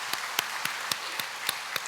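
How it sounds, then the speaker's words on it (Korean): A church congregation at a Korean Sunday service gives sparse, evenly spaced claps, fairly quiet and slightly distant, with a low hum beneath. "우리 크게 박수로 격려하시겠습니다."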